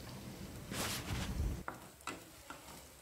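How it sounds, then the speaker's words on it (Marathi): Tomatoes frying in a pan for a spicy gawar bhaji, a faint soft sizzle with a spoon stirring and a few light scrapes and taps, no talking. "टमाटो सुद्धा त्याला फ्राय करून घ्यायचो असा"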